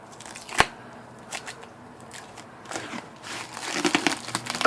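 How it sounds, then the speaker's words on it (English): Plastic saran-style wrap crinkles and crackles as it is pulled tight around an IBM Selectric typewriter keyboard, with irregular close rustles, a sharp snap early on and a busier stretch of crumpling toward the end. "again use the saran wrap type thing, and wrap it up here"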